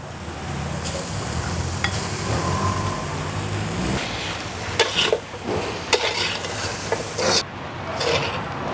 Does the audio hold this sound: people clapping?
no